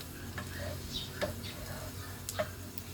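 A utensil stirs food sizzling in a pan, a soft steady fry with a few light clicks and taps of metal scattered across the moment, close by.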